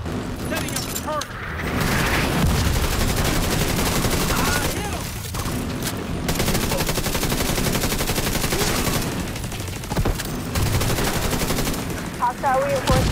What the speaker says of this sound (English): The autocannon is supposed to be firing blind. Setting up the turret!